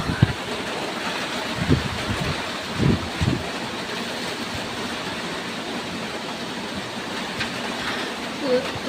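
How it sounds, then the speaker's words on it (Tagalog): Steady roaring wind of a typhoon buffets the microphone throughout, with low rumbling gusts swelling now and then and faint sounds beneath. "Ang lakas ng hangin."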